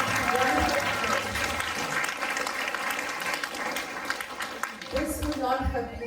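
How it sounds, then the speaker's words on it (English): An audience gives a round of applause at a Sunday feast gathering after a youth-themed Ramayana drama, a dense wash of clapping that stays steady and fairly loud, with a voice speaking over it near the end. "let's give you a round of applause to all of you"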